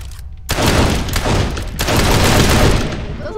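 Sniper rifle shots in People Playground ring out in a dense, loud burst of overlapping blasts that rumble on for a few seconds with a brief break, no talk over them.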